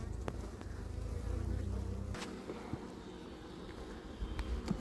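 Honeybees hum steadily around an open hive with pollen-filled frames and drones, a dense close buzz with occasional louder passes near the microphone and no voices.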